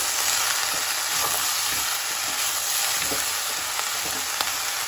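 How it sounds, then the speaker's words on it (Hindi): Mixed vegetables for Mumbai-style pav bhaji fry in a pan with a steady, close broadband sizzle and occasional soft stirring knocks, without any talk. "सारी सब्जियों को हम अच्छे से मिला लेंगे।"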